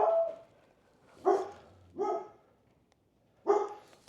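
A dog barking indoors near a workshop: several sharp, separate barks with short pauses between them, fairly close and clear, nothing else audible.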